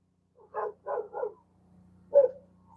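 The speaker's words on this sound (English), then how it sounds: "They're just barking to be barking." Dogs barking outdoors, three quick barks in a row followed by a pause and one more bark, moderately distant over a faint low hum.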